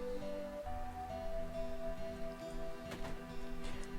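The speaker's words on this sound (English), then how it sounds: "Oh my god, it's raining." Steady rain falls throughout in Final Fantasy VII's New Threat mod, a soft, even hiss of drops with a faint musical drone beneath and no talking.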